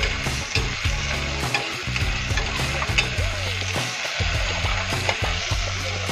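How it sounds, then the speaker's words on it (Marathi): Ginger, garlic, green chili, cumin and coriander paste frying in a pan for a vegetable pea pulao, giving a loud, steady sizzle with frequent stirring and scraping clatter throughout. "आलं, लसूण, मिरची, जिरं, कोथिंबीर याची पेस्ट घालणार आहोत। भाजून घ्यायचं आहे।"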